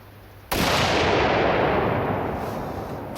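A single loud shot from a heavy-barrelled rifle firing homemade bullets cracks sharply and then rings out in a long fading echo.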